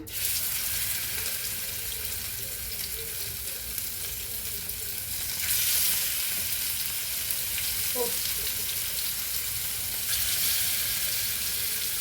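Pomfret (paplet) fish frying in hot oil, a continuous bright sizzle that holds steady throughout, with a single brief clink near the end.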